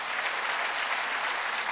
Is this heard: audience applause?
yes